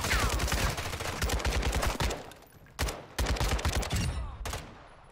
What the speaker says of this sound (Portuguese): Eles estão atirando em outro também.